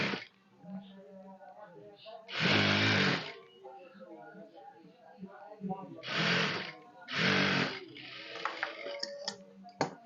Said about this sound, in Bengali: এভাবে আমরা সেলাই করে নেব।